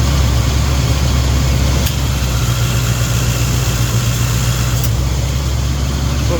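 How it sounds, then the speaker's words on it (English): A steady, low mechanical drone of a Corvette C3's running air conditioning compressor under the engine idle, constant and close, with no voices. "We can hear the compressor is running."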